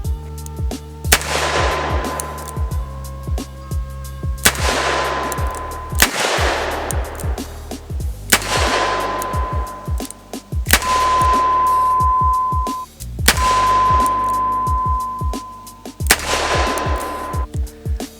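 Taurus Tracker .357 Magnum revolver fired repeatedly outdoors, six loud sharp shots a few seconds apart, each cracking hard with a ringing decay and echo behind it, alone without talk.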